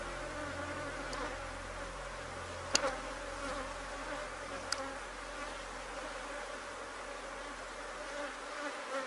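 Bees buzz in a dense, steady drone around beehives during a hive inspection, with a few sharp clicks and knocks standing out against the constant hum.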